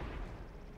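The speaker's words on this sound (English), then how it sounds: "I'm getting shot from everywhere." Heavy tank gun blasts in World of Tanks, a loud, low booming impact right at the start and a rumbling decay that stays dense through the rest of the moment.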